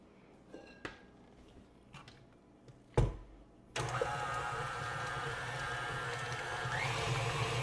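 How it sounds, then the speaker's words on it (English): A stand mixer switches on to mix cheese for a cranberry pecan cheese ball after a few light clinks and a bowl knock, then whirs with a steady motor hum that grows slightly louder. "I'm going to take the cheese back over to the mixer and get that mixed up."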